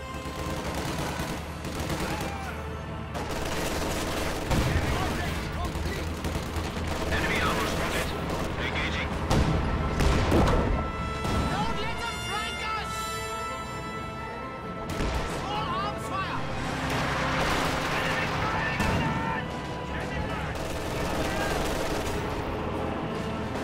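In a World War II tank game, Sherman tanks fire HE rounds while bursts of gunfire and explosions crackle and boom throughout, loud and dense, with a commentator talking over the battle.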